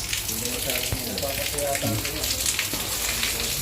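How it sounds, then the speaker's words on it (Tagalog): Heavy rain pours down in a steady, dense hiss that fills the whole stretch, with faint voices or tonal sounds murmuring underneath. "So, malakas po ang ulan mga kalingap."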